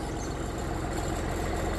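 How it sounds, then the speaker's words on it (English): New Holland 32LA compact tractor engine idling with a steady low rumble, fairly quiet and continuous, no voices over it. "Dad's coming around here. He's got his tractor"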